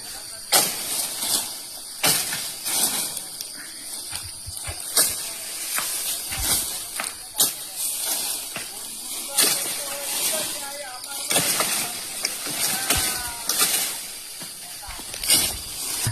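Hanging palm tree fronds cut off by hand, sharp hacking chops at irregular intervals with rustling of fronds in between, someone talking at times outdoors.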